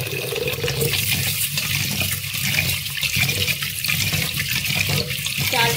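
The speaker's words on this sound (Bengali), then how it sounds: "এবার আমি চালটা ধুয়ে নিচ্ছি।" Rice being rinsed in water, a steady close rush of splashing and running water with rhythmic swishing as the grains are stirred by hand, continuous throughout.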